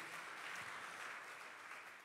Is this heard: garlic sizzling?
no